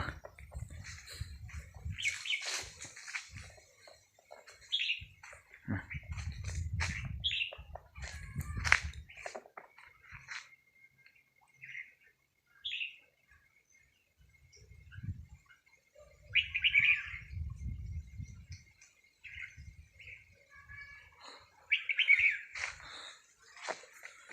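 Red-whiskered bulbuls chirp and call in scattered bright bursts while sunbathing in soft sunlight, with low cooing and thumping sounds mixed in between the calls and quiet gaps.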